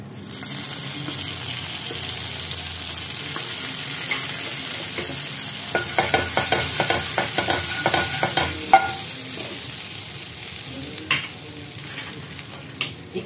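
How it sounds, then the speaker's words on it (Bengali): Butter sizzles and crackles in a new frying pan after paneer has been fried, a steady close hiss broken by a run of stirring clicks and scrapes in the middle. "এবার এখানে আমি বাটার দিচ্ছি।"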